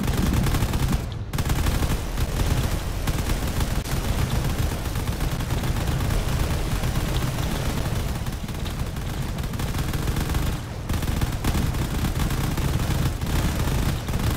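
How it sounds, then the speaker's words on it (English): Battleship cannons fire without letup in the Drone Wars video game, a dense, loud, sustained barrage of booming shots layered over one another, with only brief breaks near the start and again around ten seconds. "I believe there's another battleship up above somewhere that is firing away as well"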